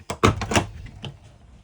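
The door of a 2021 Ozark Lite Ascent camper trailer pulled and slammed shut, a couple of quick close thuds and rattles of the latch, then a fainter knock as it settles.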